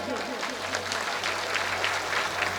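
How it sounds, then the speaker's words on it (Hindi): A large crowd at a political rally claps steadily, a dense sustained wash of applause heard from the midst of the audience, loud and continuous over a low electrical hum. "तालियां बजा दीजिए।"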